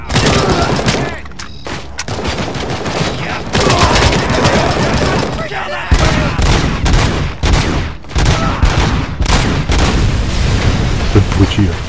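Heavy gunfire and grenade blasts roar almost without pause in the Robocop: Rogue City game, loud dense bursts and booms stacking over one another, with voices speaking faintly beneath the din.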